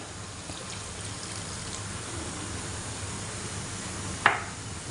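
Cold water and cornstarch slurry poured into beef with broccoli cooking in a home kitchen, a steady soft liquid wash ending in one brief splash near the end.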